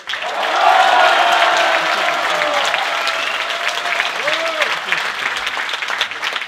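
A political rally audience breaks into sustained applause, dense loud clapping from a large crowd that holds steady for several seconds with faint voices mixed in.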